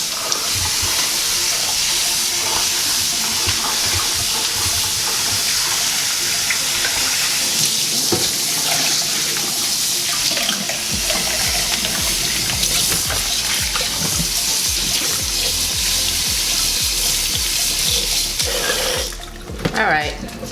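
Tap water runs over basmati rice being washed in a sink, a continuous splashing rush with scraping and swishing of grains, fairly close and steady, briefly changing near the end.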